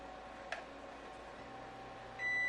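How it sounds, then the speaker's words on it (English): A kitchen timer goes off, heard as a brief quiet beep followed after a pause by a steady electronic tone at the end, in a home kitchen where pastries bake in an oven. "the timer's going off, so let's check on them"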